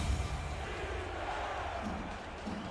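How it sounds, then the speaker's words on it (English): Rivalry college football game crowd in a stadium on its feet, a dense, steady roar of cheering and noise filling the whole stretch at a distance, with no single voice standing out. "Crowd here on their feet making as much noise as we've heard all night."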